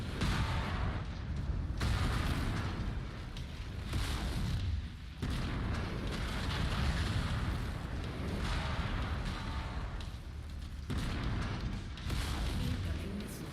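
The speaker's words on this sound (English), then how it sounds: "Incoming missile." Missiles explode in the MechWarrior 5 video game as a dense, loud roar of booms and rumbling blasts, with several abrupt cutoffs and restarts across the stretch and no speech.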